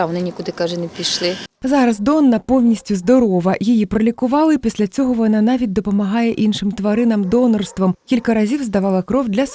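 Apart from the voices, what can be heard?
No everyday noise stands out behind the speech.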